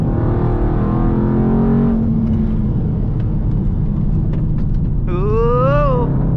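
A Dodge Charger Scat Pack's engine revs hard and then drops as it downshifts on the paddle shifters, giving a loud, steady interior drone. A rising whine follows near the end, and voices talk over it.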